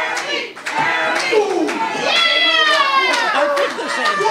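Wrestling crowd at a VCW Livewire event cheering and chanting, a loud, dense mass of voices with rising shouts and some clapping, filling the whole stretch.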